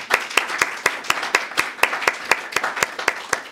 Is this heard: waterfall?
no